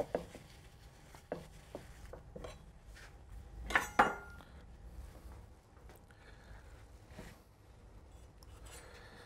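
A knife slicing through a confit Ibaïona pork loin near the bone, with a few close clicks and scrapes of blade on board and a sharper clatter of contact midway, otherwise quiet.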